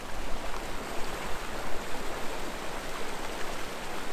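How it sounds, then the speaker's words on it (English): A river running beneath a layer of snow and ice, a steady, close rushing and gurgling flow with no pauses and no voices. "something I've never seen in my life is a river running underneath the snow"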